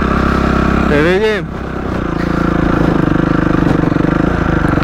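Scooter and Honda CRF 250 dirt bike engines run loud and close outdoors, with a rising-then-falling rev sweep early on before settling back to a steady idle-like drone, under a brief spoken remark.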